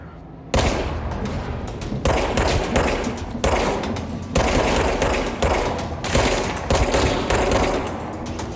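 Heavy gunshots from the video game Control boom in a series of loud, close single blasts roughly every second, each with a long decaying tail over a low ambient hum.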